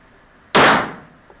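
A single loud, close gunshot from a Browning clone 9mm pistol fired at an outdoor target, a sharp crack that decays over half a second into quiet.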